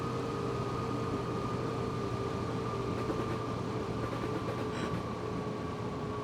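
A DB BR442 Talent 2 electric train in Train Simulator on the Munich to Garmisch line brakes toward a stop, giving a steady, loud rolling rumble with a constant hum and a few faint higher tones.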